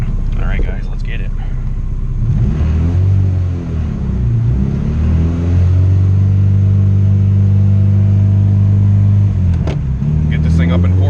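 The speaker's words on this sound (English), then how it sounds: "I've been preferring to do dyno runs in 4th gear" Honda LS VTEC all-motor engine with E85 revving hard on a dyno in fourth gear, a loud sustained rising drone that climbs steadily after a brief dip, close and dominant throughout.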